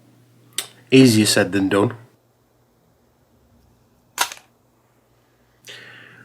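Side cutters snip through a plastic cable gland inside a Yamaha GA-10 guitar amplifier. Someone speaks briefly first, then sharp, isolated clicks and snaps come close-up, widely spaced against quiet.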